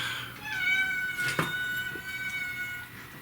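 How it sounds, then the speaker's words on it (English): A kitten meows repeatedly and fairly close, its high, drawn-out cries rising and falling over a quiet room with soft background sounds. "He's such a good kitten. He's really verbal."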